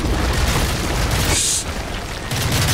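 A heavy explosion in the video game Call of Duty: Modern Warfare 3 lands as a single loud, brief boom over constant game noise, with a voice faintly present.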